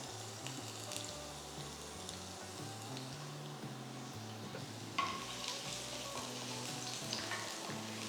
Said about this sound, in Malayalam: ചൂടായ എണ്ണയിലേക്ക് നമുക്കൊരു 4 അല്ലി വെളുത്തുള്ളി